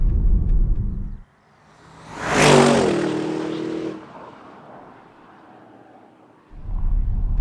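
An Audi RS Q8 SUV engine revs hard on a UK road, rising to a loud roaring peak and then fading away, with heavy low rumble before and after.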